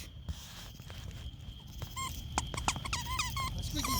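A squeaky dog toy squeaked repeatedly outdoors, a quick run of sharp high squeaks, several in rapid succession toward the end, over low rumbling background noise.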